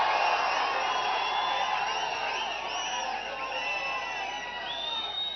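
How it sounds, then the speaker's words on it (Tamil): A large crowd at a political rally cheers and roars without a break, with whoops and shouts rising above the dense, sustained din of voices. "என்ன ஆரவாரம்."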